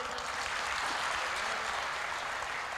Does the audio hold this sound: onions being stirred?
no